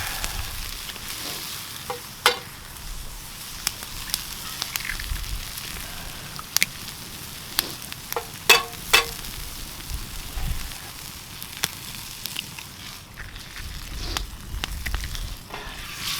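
Eggs fry in a pan over a campfire during solo winter camping, with a steady crackling sizzle and scattered sharp pops and spatters, close up and continuous with no talk.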